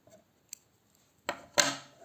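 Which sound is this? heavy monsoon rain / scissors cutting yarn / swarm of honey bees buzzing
scissors cutting yarn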